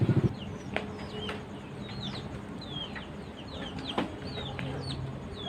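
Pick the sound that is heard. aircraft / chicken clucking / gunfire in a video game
chicken clucking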